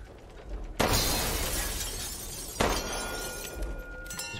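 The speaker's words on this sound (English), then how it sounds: "It's bullshit because you haven't been able to fucking break glass the entire game." Glass shatters loudly in Resident Evil Village, a sharp crash at about 0.8 seconds with a long ringing tail of debris, then a second smash near 2.6 seconds, with no talking.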